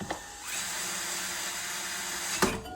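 A power drill whirs continuously for about two seconds during installation of a ceiling fan, a close, steady motor whine starting and stopping abruptly.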